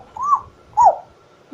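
A small child imitates a jackal's howl with two short, rising and falling hooting calls that stand out clearly against a quiet background.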